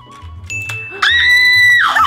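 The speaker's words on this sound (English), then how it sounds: "I've never seen someone scream while I grab a fork" Character screaming in a Roblox cruise game, a loud, sustained high-pitched wail rising out of background game music and lasting about a second.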